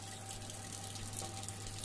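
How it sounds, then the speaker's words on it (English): Hydrogen peroxide bubbles in a dirty cut with a faint, steady, close-up fizz of fine bubbles that runs unbroken and without any voices. "See how it bubbles like that?"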